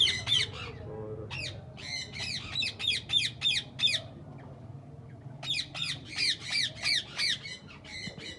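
Ringneck parrots in an aviary give harsh, piercing squawks in quick repeated bursts, loud and close, with a short lull in the middle and a low background hum.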